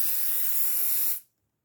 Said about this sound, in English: I'm going to spray it with the temporary adhesive because that one comes off real easy